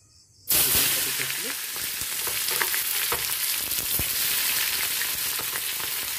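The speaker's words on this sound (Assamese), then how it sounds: "বাকী ৰৈ যোৱা তেলখিনিতে মই পিঁয়াজখিনি দি দিম।" Onions hit hot oil with a sudden, loud sizzle that settles into steady frying hiss, with faint stirring scrapes throughout.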